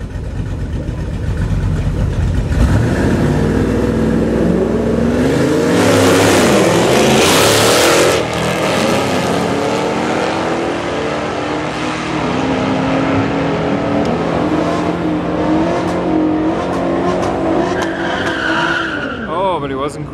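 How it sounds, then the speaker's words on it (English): A nitrous Mustang hot rod launches at a drag strip test-and-tune night, engine roaring hard with rising revs and tire squeal, loud and close at first, then pulling away into a steady fading drone. "Nitrous Mustang, I heard him purging."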